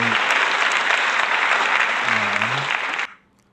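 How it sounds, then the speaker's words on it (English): Loud, dense round of applause from a podcast audience, steady for about three seconds before cutting off abruptly, with a brief voice murmuring low beneath the clapping. "I think that deserves a huge round of applause."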